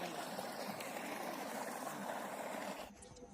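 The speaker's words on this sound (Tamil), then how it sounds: "அதுக்கு தண்ணி தான் பாய்ச்சிட்ருக்காங்க" Irrigation water flows steadily along rows of banana saplings on a family farm, a constant rushing wash close by that drops away sharply just before the end.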